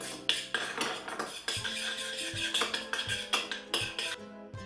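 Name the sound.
whisking eggs in a bowl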